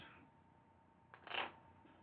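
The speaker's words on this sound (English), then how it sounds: "we're going to shuffle our decks" A deck of Star Wars CCG cards is shuffled close by, a quiet soft rustle followed by a brief, sharper riffle of cards, with no talking.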